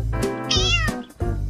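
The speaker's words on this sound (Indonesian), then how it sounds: "Jess, inilah hadiah kita. Anak kucing." A kitten gives a few close, loud meows in quick succession, the middle one higher and longer, heard clearly with no talking over it.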